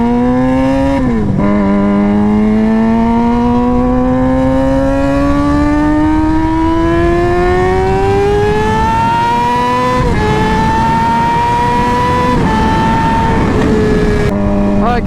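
Two Suzuki GSX-R motorcycles with straight-piped exhausts, loud and close, a raw buzzing drone rising steadily in pitch through long pulls, with brief drops between.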